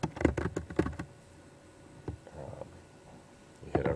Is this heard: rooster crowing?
no